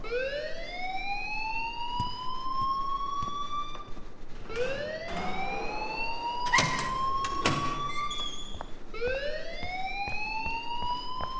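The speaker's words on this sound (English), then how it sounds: "please turn off that alarm since that's your job" An alarm wails in the video game Life is Strange, a rising whooping tone that repeats three times in a steady cycle, loud and alone, with a few sharp clicks and clatters in between.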